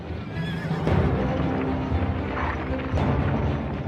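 A horse neighs loudly over a busy background of hooves and commotion, with a second whinny rising near the end, used as a documentary sound effect for horse-drawn chariots.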